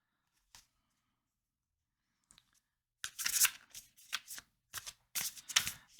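A tarot card deck is handled quietly with a few faint taps, then shuffled close up in several quick, crisp riffling bursts separated by short pauses.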